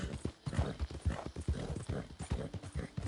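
A fast, stamina-rich horse gallops in Red Dead Redemption 2, its hoofbeats a quick, steady rhythm of close, thudding clip-clops that carry on alone throughout without any voices.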